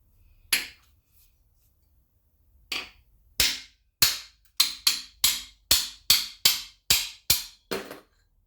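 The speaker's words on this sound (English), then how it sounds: "Hopefully now just knock it with the cold chisel." Sharp metallic hammer strikes on a cold chisel while dismantling a rusty Chrysler 440 engine, a few scattered hits and then a fast, steady run of about ten blows, close by.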